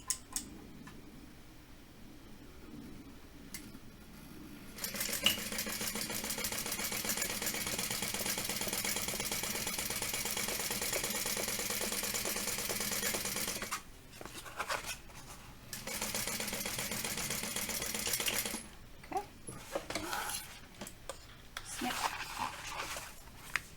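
Sewing machine top stitching along the folded top edge of a fabric tote bag, a steady fast mechanical whir running continuously for long stretches with brief pauses and restarts near the end.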